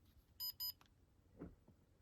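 A Takara Tomy 3D Shot Cam toy camera gives two short, clear electronic beeps in quick succession in a quiet room, followed by a faint soft click.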